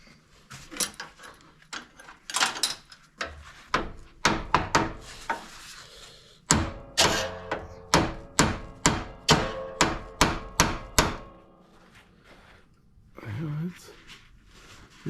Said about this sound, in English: I'm going to take a hammer and just tap on that and see if it moves at all